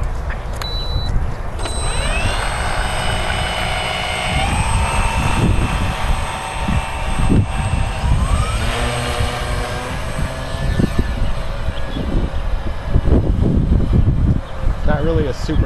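A scale model WWII PBY Catalina airplane flies overhead, its engine droning continuously with shifting pitch as it passes, heard under outdoor background noise and occasional talk.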